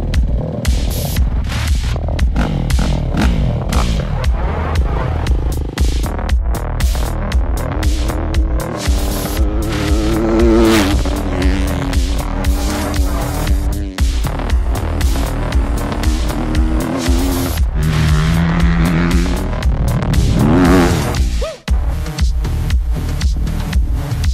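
Motorcycle engines roar continuously around a track while riders burn laps, loud and close, with throttle rising and falling across a steady dense drone of several bikes.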